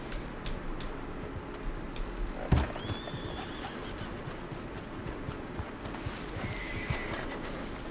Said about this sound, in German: Warum schreibt das Pferd da unten die ganze Zeit wie im Spieß?